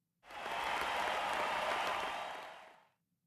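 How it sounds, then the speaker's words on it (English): A recorded applause sound effect in a music lesson: a burst of crowd clapping that starts abruptly after a short silence, holds steady for over two seconds, then fades out cleanly. "click the play button to hear a round of applause for you and your students."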